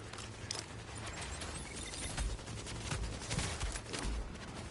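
Rapid gunfire aimed at elite enemies in The Division, a dense stream of shots crackling at moderate distance over a steady rumbling background, fairly quiet overall.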